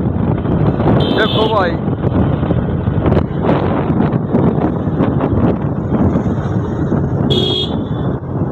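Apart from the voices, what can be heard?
cold wind blowing in the mountains at Mussoorie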